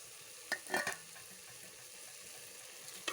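Food fries quietly in a pan, with a faint sizzle and a short burst of stirring scrapes near the start, then a low hiss.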